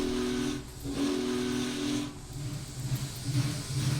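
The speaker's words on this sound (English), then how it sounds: "Blow the whistle." The steam whistle of a Union Pacific Big Boy locomotive in a train simulator video game sounds loud and close, giving two long hissing blasts separated by a brief break, then a rougher chuffing hiss.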